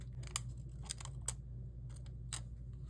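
A few soft, crisp snips of scissors cutting paper sound close but faint over low background hum, spaced irregularly across a couple of seconds.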